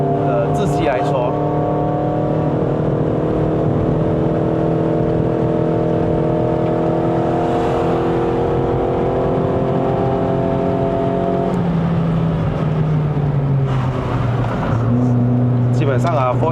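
Toyota Vios 1.5J (NCP150) with a remapped 1.5-litre naturally aspirated engine and 4-speed automatic climbing a mountain road in Malaysia in second gear. The engine drones loudly and steadily from inside the cabin, with its pitch dropping late on.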